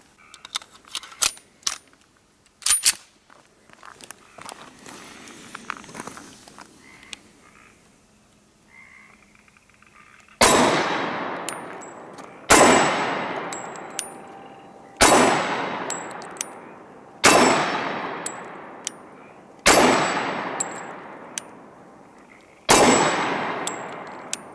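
Sig Sauer 1911 Emperor Scorpion pistol fired outdoors, six loud evenly spaced gunshots each trailing off in a long echo, after a stretch of quieter handling clicks and metallic clinks.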